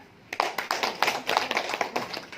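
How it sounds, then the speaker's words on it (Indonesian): A classroom of students claps after a peer-teaching group presents, a short burst of scattered, uneven hand claps, fairly close and unaccompanied by talk. "Bagus, tepuk tangan."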